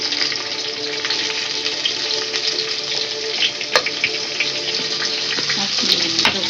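Onions fry in hot oil in a pressure cooker with bay leaf, kasuri methi and fennel for a biryani. A steady, loud sizzle runs throughout, with a few sharp utensil clinks.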